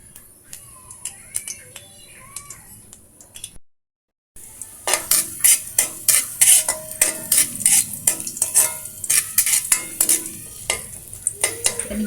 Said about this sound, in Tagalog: Pinigisa lang natin to hanggang sa lalabas yung kanyang aroma